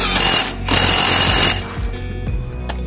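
JLD 88V cordless impact wrench loosening a wheel bolt on a Honda automatic scooter, loud rapid hammering rattle in bursts that then tapers off into lighter, slower clicks.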